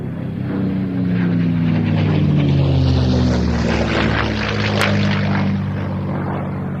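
A P-51 Mustang propeller fighter passes overhead at an airshow flying day at Duxford. Its loud engine drone swells as it approaches, peaks, then recedes over several seconds.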